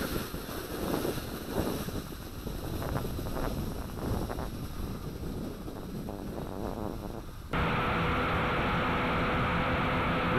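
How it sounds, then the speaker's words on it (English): Wind rushes steadily across the microphone at an outdoor flight of a JJRC H8C quadcopter drone, a broad hissing roar with gusty fluctuation that turns into a louder, harsher constant buffeting near the end. "There is a significant wind up there"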